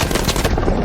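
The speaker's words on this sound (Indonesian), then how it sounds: "Madeleine yang tenggelam justru diselamatkan nyawanya dengan cara menembakkan pistol ke arah lapisan es." Gunfire in a James Bond film scene, where a pistol is fired at a layer of ice: a dense, loud burst of sharp cracks and rumble that cuts off abruptly.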